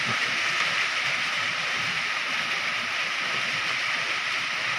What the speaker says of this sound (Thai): เดี๋ยวผมจะให้ดูบรรยากาศฝนยังตกอยู่นะครับ